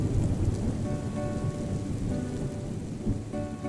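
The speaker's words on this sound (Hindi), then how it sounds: "मुझे बारिश बहुत पसंद है।" Steady rain pours down in a movie scene from a South Indian action film, a dense, even hiss with low rumbling underneath, continuous and fairly close throughout, with no voices.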